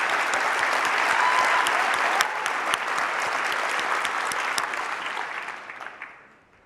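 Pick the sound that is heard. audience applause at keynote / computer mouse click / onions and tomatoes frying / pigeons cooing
audience applause at keynote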